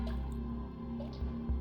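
Water drips steadily in a Soul Reaver game level, soft liquid plops and squishes over a constant low hum of ambient water and machinery, no voices.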